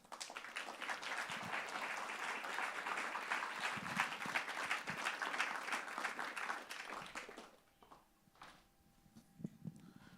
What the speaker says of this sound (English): Give you a round of applause for Sadi Shua.